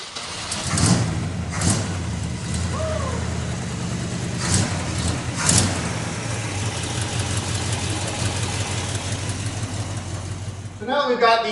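A pickup truck engine starts up and settles into a steady rough idle, with a few throttle blips and rumbling bursts near the start, heard close for several seconds.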